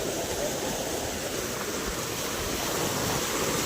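Floodwater from a rain-swollen village river rushes past in a steady, loud, broadband roar that sounds close and unbroken, with wind buffeting the microphone and no voices.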